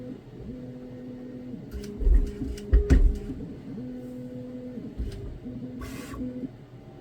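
A Bambu A1 3D printer whirs and clicks with a steady motor hum, broken by a few louder knocks and short high buzzing bursts, close by with no voices.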